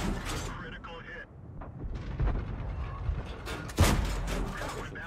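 Tank guns fire in World of Tanks, with a sharp heavy shot near the middle of the clip and another loud boom toward the end, over mechanical rumble and a talking voice.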